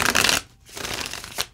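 A deck of tarot cards is shuffled by hand: a crisp burst of riffling, a short pause, then softer sliding and flicking of the cards.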